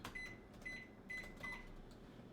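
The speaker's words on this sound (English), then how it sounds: "I'm going to nuke it in the microwave for just about, not even, maybe 10 seconds." A microwave oven softening butter gives a faint, steady hum, with four short high electronic beeps in an even rhythm.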